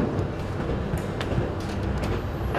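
Inside a passenger train travelling to Olympia, Greece: a steady, loud rumble of wheels and carriage with faint rhythmic clatter, continuous throughout with no talk.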